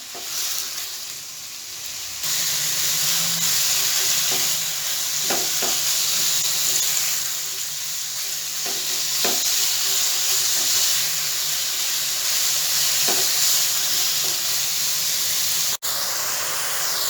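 Spicy chicken pieces with bell pepper fry in a pan with a steady, loud sizzle and hiss that runs the whole time, broken by a few soft clicks of stirring and no talk.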